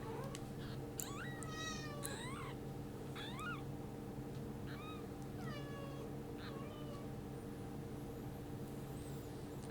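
A kitten meows repeatedly, thin rising and falling cries spaced a second or so apart, over a steady low hum of background noise.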